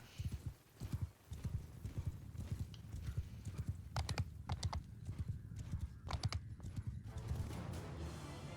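Horse archers gallop across a Mount & Blade Bannerlord battlefield, their hooves drumming in a rapid, continuous clip-clop with occasional whinnies and faint clicking over it.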